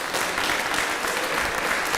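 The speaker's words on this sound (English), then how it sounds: "No clapping." An audience at a county council meeting claps in a steady, dense burst of applause that fills the room loudly for two seconds, with no voices over it.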